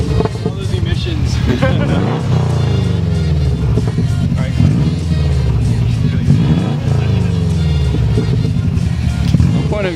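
Subaru WRX engine revving with the exhaust removed, a loud raw throaty roar rising and falling through repeated blips, with voices talking over it nearby.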